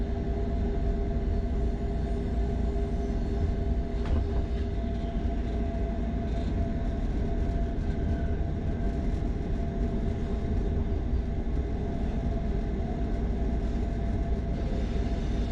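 A Flåm Railway train in Norway climbs from sea level toward 866 meters, its steady deep rumble and rolling wheel noise filling the cab continuously, with occasional faint clanks and squeals over the drone.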